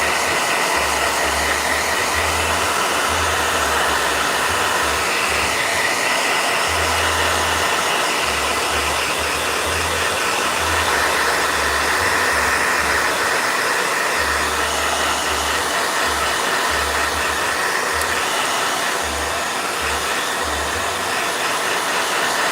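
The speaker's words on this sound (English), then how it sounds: "Blow dryer." A blow dryer runs continuously at close range, a loud steady whooshing hiss with a low fluttering hum pulsing underneath, with no voices over it.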